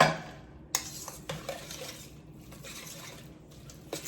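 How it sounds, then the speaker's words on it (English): A whisk stirs bison lasagna mixture in a bowl or pot, giving soft continuous scraping and light clinking with a few sharper taps, close and fairly quiet, with no talking. "And then we just want to give that a nice little stir. And actually, I think I'm going to use my whisk."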